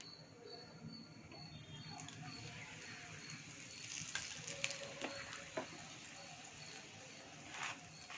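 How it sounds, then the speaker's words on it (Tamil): Chapati cooking on a hot stone griddle with oil drizzled around it, a faint soft sizzle with occasional light scrapes and taps, spoken voice present. "மாவு கொஞ்சம் வெந்துருச்சு. கொஞ்சம் எண்ணெய் ஊற்றிக்கலாம் சுற்றி."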